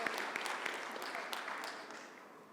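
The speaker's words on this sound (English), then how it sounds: "let's give a quick round of applause for Dr. Tahani" A conference crowd claps together in a dense, steady round of applause that gradually tapers off, heard from a moderate distance in a large hall.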